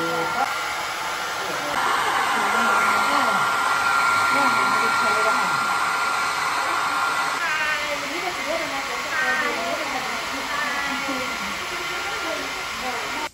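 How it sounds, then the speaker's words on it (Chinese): A hair dryer blows steadily on freshly washed hair indoors, a loud continuous whooshing drone that shifts in pitch as the setting or angle changes, with faint talk beneath it. "终于吹干了，吹了好久啊"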